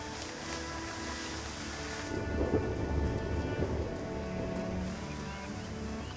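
Steady rain patters on surfaces while low, rolling thunder rumbles underneath, the storm swelling slightly louder midway and continuing without pause for six seconds.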